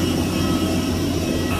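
Steady loud jet engine roar of an airliner at the airport as passengers board, continuous and close with a low droning hum throughout, no talking.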